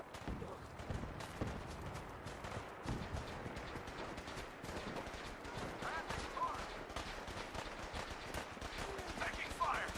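Gunfire crackles through a Fallout 4 firefight as rapid, sharp shots and bursts stack up across the whole stretch, fairly quiet overall, while voices talk over the combat.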